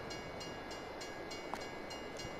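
A train rolls along the track in the farming game Farming Simulator 22, a steady rumbling hum with faint, regularly spaced clicks of wheels over rail joints, fairly quiet and with no one speaking.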